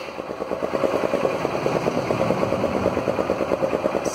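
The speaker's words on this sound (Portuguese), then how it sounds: "Então eu vou ligar aqui a moto" A motorcycle idling through a modified stock exhaust, giving a close, rapid, steady run of popping pulses with no talk over it.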